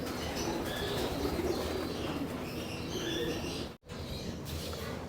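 Pigeons in a loft aviary give soft cooing and occasional chirps over a steady background hum, with a brief wing flap near the end.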